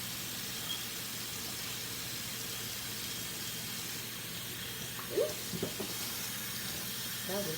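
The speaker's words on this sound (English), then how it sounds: "Wash your hands off with good old hot water." Hot tap water runs steadily from a kitchen faucet while hands are washed under it during home cooking, a soft continuous hiss with a few brief splashing bumps near the end.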